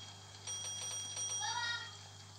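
A bell ringing inside a hotel in a Roblox video game, several bright chiming tones sounding in the middle of the clip over a steady background hum.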